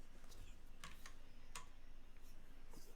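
Sharp, sparse clicks, like keyboard or mouse taps, pick up at irregular intervals over a steady background hum on a livestream.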